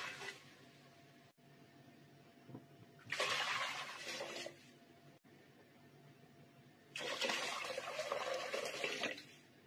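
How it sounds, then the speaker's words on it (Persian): Water poured into a cooking pot for noodle soup in two separate splashing bursts, a short one and then a longer one, each close and fairly loud against a quiet kitchen background. "برای پخت رشته 4 لیوان آب اضافه میکنم"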